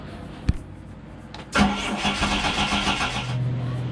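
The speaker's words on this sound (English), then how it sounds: "Start it? Yeah, try that one now. That's gonna be the other engine." A boat's engine on a new boat with engine trouble cranks and catches after a sharp click, then settles into a rough, uneven idle close by, with some voices underneath.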